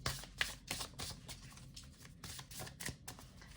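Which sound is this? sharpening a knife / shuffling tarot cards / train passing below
shuffling tarot cards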